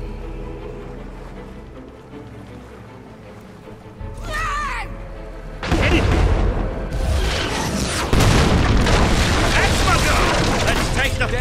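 Mortar blown up in Fable 3: a heavy explosion bursts out after a stretch of quieter ambience and a brief whoosh, followed by loud rumbling, crackling blast noise that swells again near the end.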